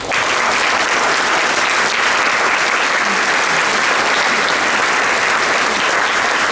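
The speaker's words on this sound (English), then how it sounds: "I would like you to give a big round of applause." Loud, dense applause from an audience at a Holocaust Remembrance Day event as sponsors are honored, a steady unbroken roar of many hands clapping.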